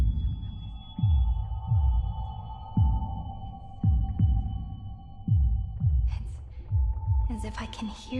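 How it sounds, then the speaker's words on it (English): Deep, slow heartbeat thumps from the Honkai: Star Rail game pulse regularly over a sustained synth hum, with airy shimmering tones swelling near the end. "as if I can hear the sound of my heart beating."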